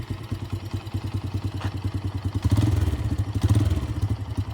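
A BD125 125cc motorcycle engine runs near idle in a close, rapid, pulsing rhythm, then picks up briefly with slightly higher revs and a louder, rougher throb.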